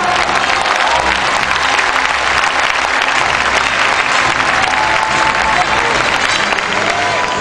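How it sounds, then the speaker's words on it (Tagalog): A large crowd applauds steadily and loudly at a company's third-anniversary event in the Araneta Coliseum, a dense, unbroken wash of clapping that lasts throughout. "Ayun din ang palakpak for our company."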